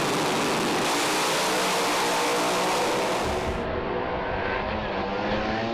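A drag race at a strip, a Speedmaster car against a Camaro, with one car getting loose and shutting down: loud, continuous broadband engine roar that holds steady, then drops in the top end partway through as the run winds down.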